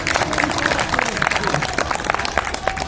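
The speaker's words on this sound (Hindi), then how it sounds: "इनके लिए जोरदार तालियां होनी चाहिए।" A crowd at a protest sit-in of unemployed railway workers claps for supporters, loud scattered applause with some cheering over a busy background.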